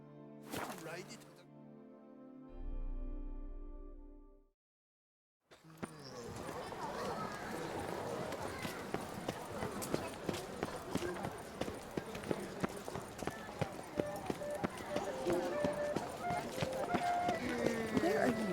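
Rapid, rhythmic hoofbeats of a galloping horse in the game The Witcher 3: Blood and Wine pound steadily for several seconds after a short musical sting and a brief silence.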